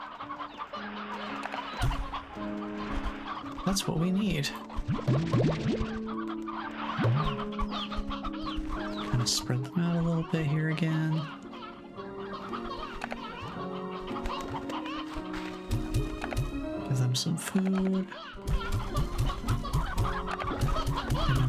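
Chickens and roosters cluck and squawk in a corral in the Slime Rancher 2 video game, a busy, overlapping flock chattering near and loud throughout while someone talks over them.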